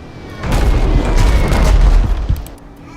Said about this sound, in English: Mortar shells incoming.